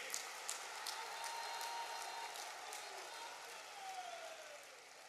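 A crowd at a government project inauguration event in Sahebganj, Jharkhand, claps steadily and faintly, heard from a distance with a hint of voices underneath.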